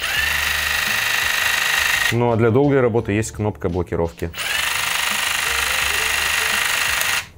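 Makita DJV182 cordless jigsaw running under power, a steady high-pitched motor whine that continues, stops briefly while someone speaks, then resumes steadily until cut off.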